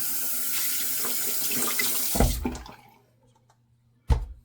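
A tap runs steadily while something is rinsed out under it, the water rushing loudly before it is shut off and falls quiet, then one final splash or knock follows.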